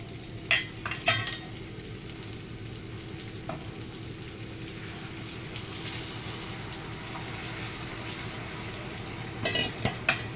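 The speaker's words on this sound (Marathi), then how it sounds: "मी आता गरम पाणी टाकून घेते ह्याच्यामध्ये" Hot water is poured into potato bhaji in a pan, making a continuous soft sizzle and bubbling with a few sharp utensil clicks near the start and end.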